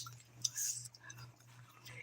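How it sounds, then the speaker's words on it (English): Gum being chewed close to the mic, with soft wet clicks and smacks in an irregular rhythm over a steady low hum. "I'm just chewing gum."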